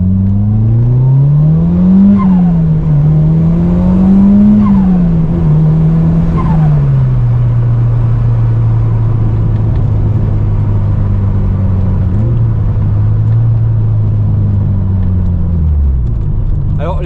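Mitsubishi Lancer Evo 5 turbo car driving steadily on a winding road, engine note loud and close, rising and falling with gear changes and revs before settling into a relaxed cruise.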